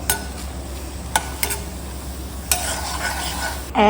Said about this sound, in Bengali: আর আজকে ভাজছি ব্যাট পাঁপড়